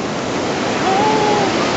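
Water and waves at Sycamore Cove rushing loudly and continuously, a dense close surf roar with a brief whistle-like tone riding over it.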